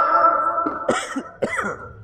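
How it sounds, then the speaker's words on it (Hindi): A few short, raspy coughs in quick succession, close and fairly loud, with no talking. "ये थोड़ी खांसी आ रही है इसमें"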